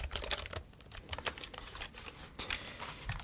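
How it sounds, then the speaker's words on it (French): Rapid, uneven clacking of a cheap mechanical keyboard's keys being typed on, close up and quiet, with no voices. "le clavier mécanique acheté à 1 euro, bah, je l'ai gardé pour moi. Je suis en train de l'utiliser."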